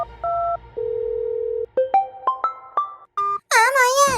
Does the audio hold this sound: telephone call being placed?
yes